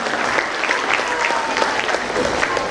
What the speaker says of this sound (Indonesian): Sekali lagi aplaus untuk tim tari daya Pak Stabilul Hayra.